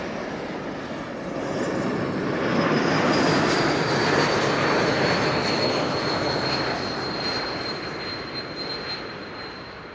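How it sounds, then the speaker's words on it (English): An Airbus A220 jet arrives at Amsterdam Schiphol Airport with a broad engine roar that swells and fades, carrying a thin, steady high whistle over the rumble. "The whistle that you heard, reminding you perhaps of E2 Embraer 195s"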